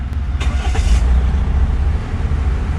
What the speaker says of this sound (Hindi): I will press the brake pedal over there and press करने के बाद विल स्टार्ट द कार